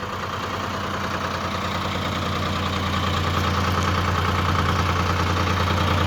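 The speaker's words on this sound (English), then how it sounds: "You can see it there bogging out. It ran better after I ran it for a little bit." A 1967 C5 TreeFarmer skidder with a Detroit Diesel engine running at a steady, loud, close idle, a rough throbbing drone with a faint rise in level and no talk.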